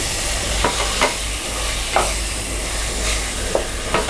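Tomato and mint for a mutton dum biryani cook in a pot with a loud, steady sizzle, broken by a few sharp stirring scrapes, close up and with no voices.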